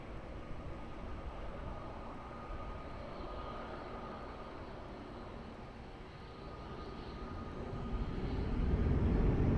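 A jet airliner taking off from runway 20 at Lisbon Airport, a broad distant engine roar that holds steady and then swells louder toward the end, no voices.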